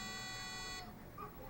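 Buzzer of a temperature-controlled circuit sounding a steady electronic tone that cuts off partway through, leaving faint background noise and low voices.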